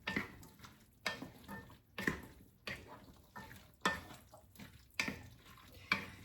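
Chickpeas are stirred into a pot of kale soup in regular close strokes about once a second, each a soft scrape and slosh over a faint simmer.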